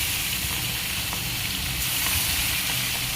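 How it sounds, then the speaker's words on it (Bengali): Fish frying in oil in a pan gives a steady dense sizzle with a constant bright hiss, close and even throughout, with no talking. "মাছগুলো ভাজা হয়ে গেলে নামিয়ে নেবো।"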